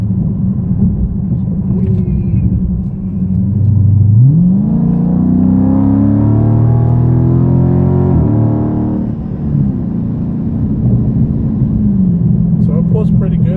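Dodge Charger Scat Pack pulling hard from about 30 to 70 out of a roundabout, its V8 rising in a steady climbing drone through one long gear, then easing off to a low rumble, heard from inside with talk over it.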